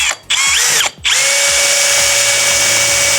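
A power drill bores a small pilot hole through the sheet-metal door panel of a Mercedes Sprinter van, with two brief start-stop bursts and then a steady high whine, close and loud.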